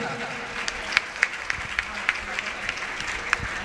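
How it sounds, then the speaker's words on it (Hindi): Applause from a seated assembly honouring a group of men during an Anant Chaturdashi procession event, steady scattered clapping with a few sharper claps, a voice murmuring faintly underneath. "एक बार पूरा सदन पुनः इन भाइयों के सम्मान में ताली बजाए।"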